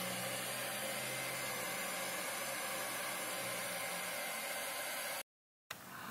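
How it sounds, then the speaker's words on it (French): Hair dryer rated 1860 watts powered by a Fossibot F2400 2400-watt portable power station, giving a steady broadband whoosh at moderate level that cuts out abruptly near the end, then briefly resumes. "pour utiliser un sèche-cheveux"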